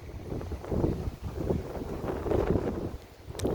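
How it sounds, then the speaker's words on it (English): Strong wind gusts buffet the microphone outdoors in open desert country, a steady roaring rush that rises and falls in uneven surges, close and loud with no talk over it. "It's very windy out."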